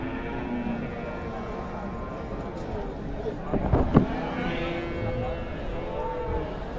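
A cow moos once amid a busy outdoor crowd at the Vaniyambadi cattle market, with murmuring voices and general market bustle continuing throughout.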